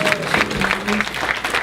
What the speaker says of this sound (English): People with children, by applause.